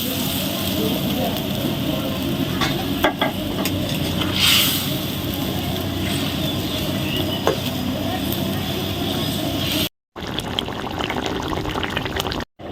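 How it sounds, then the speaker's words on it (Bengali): Pieces of rohu fish go into a boiling curry gravy and are stirred, a continuous bubbling, sizzling hiss with a few soft clinks and knocks, cut off briefly near the end. "ঝোলটা ফুটে গিয়েছে, এবার মাছগুলো দিয়ে দেব।"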